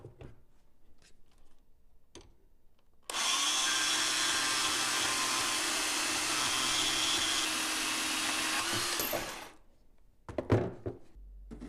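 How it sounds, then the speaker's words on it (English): A bandsaw cutting brass for an antique clock hinge repair: a loud, steady whining roar that starts abruptly, holds for about six seconds, then stops, with quiet workshop handling sounds before and clunks after. "So I've decided to cut off the excess on my bandsaw"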